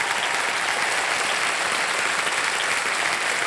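A studio audience at a television quiz show bursts into sustained, dense applause, loud and even from start to finish with no pauses and no voices over it.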